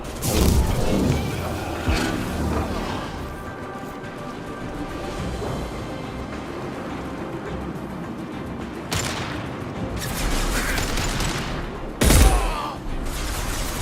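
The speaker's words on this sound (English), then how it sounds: "Firing a high-impact shot." Gunfire in a shooting video game sounds as a heavy impact shot, a sharp loud blast near the end over a dense backdrop of ongoing battle noise and scattered distant shots, with a short earlier burst.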